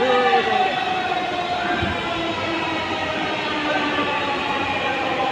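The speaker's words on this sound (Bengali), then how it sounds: "আমরা এই ট্রেনে উঠবো। ওইটা হচ্ছে অন্য দিকের ট্রেন।" A Dhaka metro rail train rumbles into the station, a steady loud rolling roar with squealing wheel tones and crowd voices mixed in.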